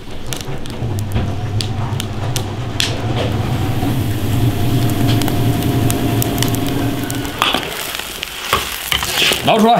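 Pig trotters stir-frying in an iron wok, a loud, steady sizzle with scraping stir strokes throughout, ending in sharper clatter and hissing bursts near the close.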